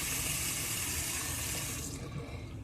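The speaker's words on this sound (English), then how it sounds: "So I always start by just moistening my face with some warm water." Warm tap water runs steadily into a sink as someone wets their face, a constant close splashing hiss that thins a little near the end.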